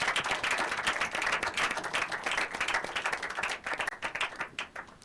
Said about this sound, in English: Could you please give a round of applause for our young leader?